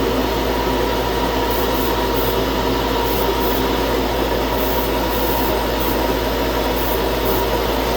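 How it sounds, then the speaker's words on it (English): An air compressor set up for spray painting runs loud and close, a constant unbroken mechanical roar and hum with no pauses or speech. "Turn on the compressor"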